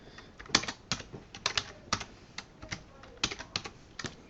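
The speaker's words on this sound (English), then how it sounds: "I'm just going to type these in here." Irregular clicking taps on a computer keyboard, close and fairly quiet, with short bursts of keystrokes and brief pauses between them.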